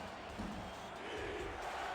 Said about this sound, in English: The Buffalo, New York faithful trying to cheer their Corsairs on to stop Carolina from scoring here